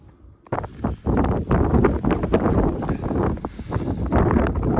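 Strong wind buffeting a microphone on an exposed hilltop in the UK, loud gusty roaring bursts that begin abruptly after a quiet half second and keep pulsing unevenly to the end.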